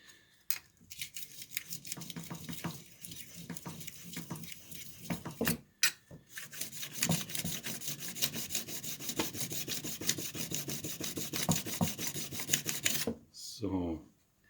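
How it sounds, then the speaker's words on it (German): A steel card scraper is rubbed back and forth against a sharpening stone on a workbench, giving a continuous close scraping rasp with short breaks and a final pause near the end. "Ich führe die Ziehklinge wieder auf den Tisch gegen den Schleifstein."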